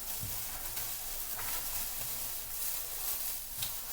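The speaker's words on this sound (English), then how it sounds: "While you have your vegetables sauteing" Vegetables sauteing in a pan while cornbread is being prepared, a steady broadband sizzle running throughout with a few soft stirring clicks, close and moderately loud with no talking.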